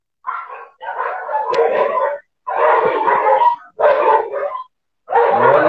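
Dog barking in a run of loud, close bursts, several quick barks grouped together with short pauses between them and no talk over them, heard indoors during a conversation at home.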